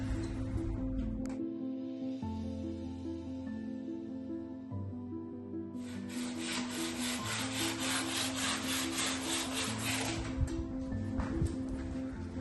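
Steady abrasive rubbing of a floor sander working over wood, growing louder and harsher midway, with a low mechanical hum and tonal drone underneath.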